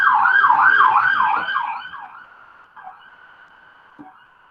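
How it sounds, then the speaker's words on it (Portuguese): An ambulance siren wails loudly in a rising and falling pattern, then fades quickly as the vehicle passes and moves away, leaving only faint traffic noise. "Deixa eu passar essa ambulância."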